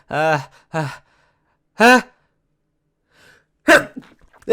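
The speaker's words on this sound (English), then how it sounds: "I'm going to sneeze!" A few breathy vocal bursts and gasps build up to a sharp sneeze, close to the microphone, separated by short silences.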